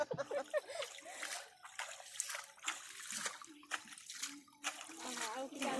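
A small child slaps water with his hand during a Kartik Purnima boat-floating ritual, producing close, irregular splashes and sloshes while an adult talks encouragingly over them.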